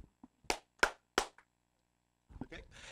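Three sharp claps in a steady rhythm from an audience at a pre-primary classroom workshop, separated by brief silence, then a voice begins speaking.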